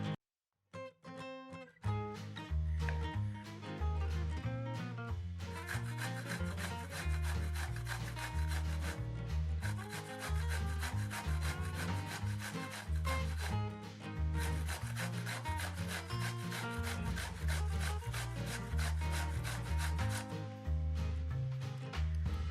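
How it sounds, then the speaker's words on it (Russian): A third of a pear rubbed on a coarse grater makes a steady run of rhythmic rasping strokes that sit beneath loud background music for most of the stretch. "Натираем на крупной терке треть груши."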